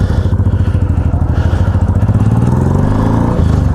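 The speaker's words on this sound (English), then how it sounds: "Wow, I like this engine. It's superb. 1800cc." A Honda VTX 1800cc motorcycle engine idling and running close by, a loud, deep, rapid rhythmic thumping that stays steady and then rises slightly toward the end.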